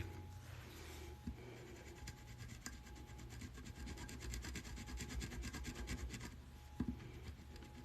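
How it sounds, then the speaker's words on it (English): A clay ball tool rubs glitter flat on a tumbler, making a faint, continuous scratchy rasp of close, repeated strokes with occasional light taps and no speech. "All you're doing with burnishing is just forcing the glitter to lay flat."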